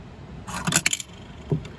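A campground token machine drops a metal token with a brief jangling clatter of coins and metal, followed by a single softer clunk, close by and with no talking.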